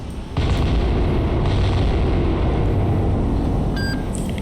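A missile launch in the Cold Waters naval combat game starts as a sudden deep boom and settles into a sustained loud roar. A few short electronic beeps sound near the end.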